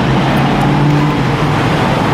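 Steady road traffic rumbles from the street below a raised walkway in Atlanta, a dense, continuous wash of car engines and tire noise with no single vehicle standing out and no talking.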